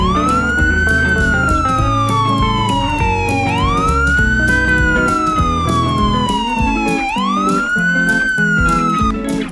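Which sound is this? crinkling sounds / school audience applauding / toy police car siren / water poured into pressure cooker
toy police car siren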